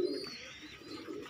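Soft cooing from a pigeon with a respiratory (asthma-like) condition, a low warbling call repeated through the short stretch alongside faint high chirps, fairly quiet and close, with no voices.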